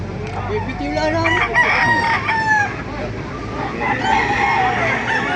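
Roosters and hens at a roadside poultry lot in Baliuag, Bulacan crow and cluck continuously, with several overlapping calls close by and a steady background murmur.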